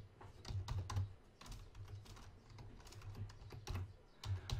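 Fast, steady clatter of fingers typing on a computer keyboard close up, continuous quiet key clicks with small pauses, no voices.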